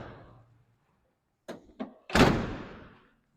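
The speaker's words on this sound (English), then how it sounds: "let me shut the doors here" Doors are shut in a rug cleaning facility: two quick knocks followed by a loud slam with a short rumbling echo, close by and alone.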